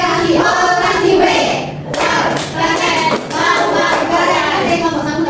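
A classroom of children claps together in a rhythmic pattern, loud and close, with bursts of claps broken by a short pause midway and a few voices mixed in.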